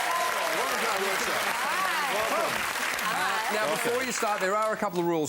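A studio audience claps in sustained, loud applause on a comedy game show, under a host speaking over it.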